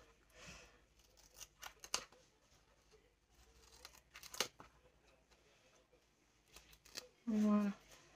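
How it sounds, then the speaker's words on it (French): Scissors snip through paper during a metal die-cut binder craft, several short sharp cuts scattered through the span and one louder, longer cut near the end, with soft handling noises and quiet talk around them. "Et pareil, les ciseaux"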